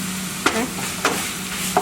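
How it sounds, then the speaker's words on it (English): Ground beef filling for Yemeni sambosa being stirred in a pan, with three brief scraping strokes at a steady rhythm over a low, even background sizzle, close by and without talk. "We're just gonna mix this up together"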